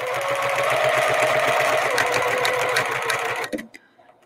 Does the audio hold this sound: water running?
no